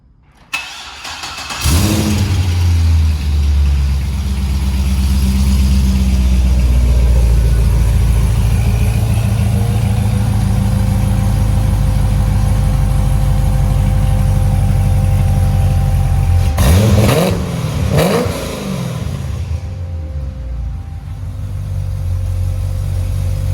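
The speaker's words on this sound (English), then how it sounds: "I'll put a little sound clip here so you can hear what she sounds like first start" A Porsche 911 fitted with test pipes fires up on its first start, settles into a loud raspy idle, then gets two sharp revs before dropping back to a rough, steady idle.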